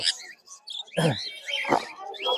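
Lovebirds and other caged pet birds at a busy bird market chirp and tweet in quick bright bursts close by, with people talking in between.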